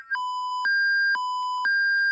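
Electronic alarm beeps from a rocket landing simulation, alternating between two steady pitched tones in long sustained pulses, loud and clean with no talk.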